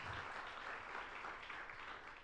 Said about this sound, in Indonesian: Ayo beri tepuk tangan buat Tuhan yang besar.